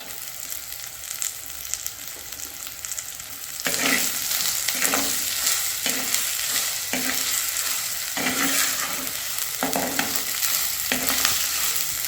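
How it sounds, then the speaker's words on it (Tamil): Onions sauté with ginger in a pan for a village-style chicken curry, a steady close sizzle broken by regular scraping strokes of a stirring spoon, with no talking. "வெங்காயம் நல்லா வதங்கிடுச்சு."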